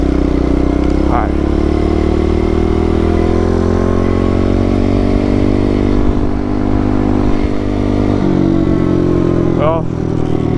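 A pit bike motorcycle ridden on a backyard dirt track, its engine droning loudly and steadily up close with slight rises and falls in pitch as it revs throughout.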